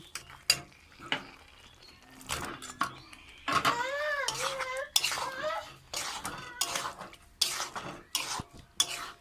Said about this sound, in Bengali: এবার এর মধ্যে দিয়ে দেবো আলু।